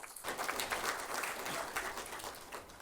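Applause from the audience at a Tamil book launch ceremony welcoming a guest onto the stage, fairly faint and distant, a steady patter of clapping over about three seconds.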